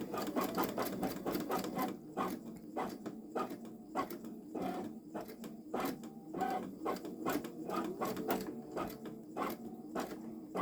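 A Babylock Solaris Vision embroidery machine stitches out a flower design, its needle hammering in a fast, steady rhythm with brief pauses, close and moderately loud with no talking.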